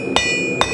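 Two sharp hammer blows on steel while forging and straightening a center punch, spaced about half a second apart with a ringing metallic tone, close and loud with no talking.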